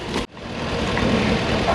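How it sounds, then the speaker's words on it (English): A tractor engine drones steadily with a low rumble, briefly cut off near the start, then continuing loud and close as the tractor works hard in the ground under load. "You can hear the tractor bite in"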